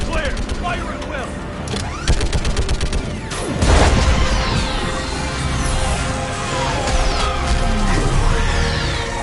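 Gunfire and heavy mechanical combat sounds during a battle against a live Reaper in Mass Effect 3, with rapid bursts and a deep booming impact midway, dense and loud throughout with talk over it.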